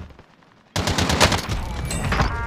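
Gunfire in Call of Duty Warzone erupts abruptly after a near-silent moment, a loud, close, sustained automatic burst with dense overlapping shots that keeps rattling to the end.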